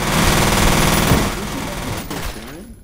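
Rapid automatic gunfire from the video game F.E.A.R., a loud, close, continuous burst of shots that rattles for over a second before tapering into echoing tail and a few trailing mechanical clanks.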